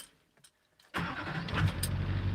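A Duramax diesel truck engine cranks and catches after a near-silent pause, then settles into a loud, steady, rumbling idle close by.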